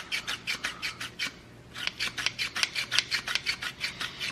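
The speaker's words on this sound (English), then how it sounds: "Grates pretty good cheese, but the entrance is so small, you have to cut up your cheese into smaller pieces" A small kitchen grater shreds cheese in quick, evenly spaced rasping strokes, about a dozen and a half in all, with a brief pause partway through before the rhythm resumes, close and moderately loud.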